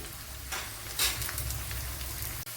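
Bitter gourd frying in a pan for an Onam kichadi: a continuous, close sizzle with a brighter crackling flare about a second in, and no talking.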